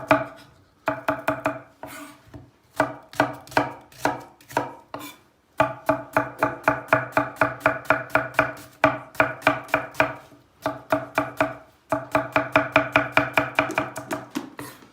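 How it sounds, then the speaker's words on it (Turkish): Rapid knife chops through an onion on a cutting board in quick rhythmic bursts, steady and close, pausing briefly between runs of strokes. "Hemen içine bir soğan doğrayacağız."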